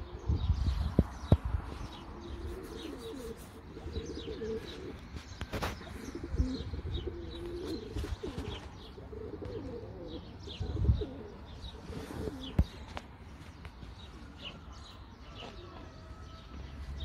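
Young tumbler pigeons of Turkish play breeds (sabuni, saraylı, kızıl and boz) coo softly and repeatedly, mixed with scattered chirps and an occasional wing flutter over a low background rumble.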